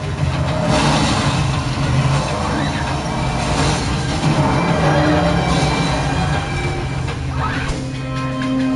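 A heavy truck engine in the video game Infamous Second Son rumbles loudly and continuously, swelling as it revs, with the steady low drone of a large vehicle close by.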